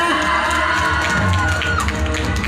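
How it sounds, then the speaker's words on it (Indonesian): A crowd at a pesantren award ceremony in Cipaniis cheers and claps for a third-place prize winner. The noise is dense and steady, with shouts and whoops rising from the audience throughout. "Iya, tepuk tangan mana?"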